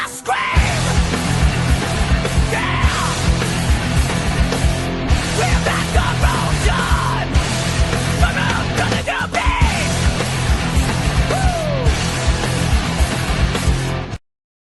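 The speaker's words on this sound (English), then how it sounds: "Can I scream?" A man screams and yells loudly in several drawn-out bursts over a steady background of sports-talk show music, harsh and close throughout.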